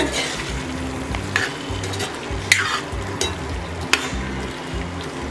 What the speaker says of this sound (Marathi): आता आपण त्यामध्ये भाज्या घालून घेऊया शिमला मिरची वाटाणा आणि फ्लॉवर